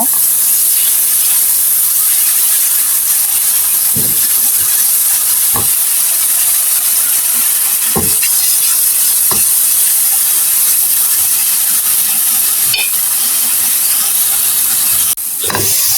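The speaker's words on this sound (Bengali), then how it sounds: "এখন আমি এই পেঁয়াজগুলি ভালো করে একটু হালকা একটু ভেজে নিব" Onions frying lightly in a pan for an egg bhuna with cashews and almonds give a steady, loud hiss that runs throughout, broken by a few faint clicks of stirring.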